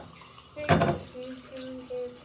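Hands are washed under a running tap at bedtime. A short, close gush of splashing water comes early, then the sound drops to faint dripping and a low hum.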